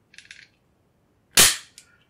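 A Walther PPS pistol with no magazine inserted: a few soft metallic clicks as the slide is drawn back, a brief pause, then one loud, sharp snap of the slide slamming forward on an empty chamber, with a faint rattle after.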